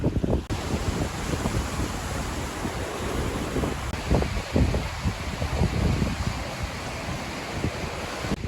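Strong wind buffets the microphone on a pier in Uruguay while waves surge and wash below, a continuous loud roar with rushing gusts and no voices.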